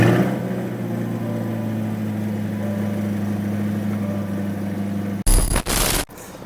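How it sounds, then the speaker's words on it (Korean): A 2023 Chevrolet Corvette C8 convertible, 3LT with the Z51 performance exhaust, holds a steady low, rumbling idle drone for about five seconds, then lets out a sudden loud, short roar before settling back. "한번 배기음 한번 들어보시죠."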